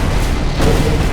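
Rocket launcher firing in Borderlands 2, a loud, heavy booming blast with a dense rumbling low end that fills the short moment, no voices heard.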